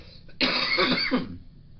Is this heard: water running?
no